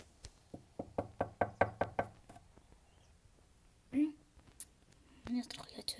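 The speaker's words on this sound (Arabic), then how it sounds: "سوف أطرق الباب الآن" Knocking on a house door in a Playhome animated game: a quick run of about eight sharp raps, close and clear, followed by a few scattered thumps and rustling.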